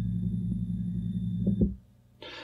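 Stepper motor driven through a step-and-direction drive at a 1 millisecond step delay, giving a steady low buzzing hum that runs for about a second and a half, then cuts out, followed by a brief higher hiss.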